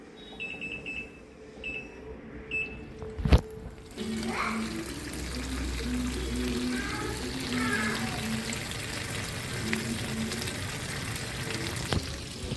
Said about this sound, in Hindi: मैंने ऑन कर दिया और कितना फोर्सली पानी आ रहा है